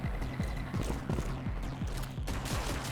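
Rapid rhythmic gunfire bursts from the video game Showgunners, a quick chain of punchy shots fired in steady succession over about three seconds, with no talk.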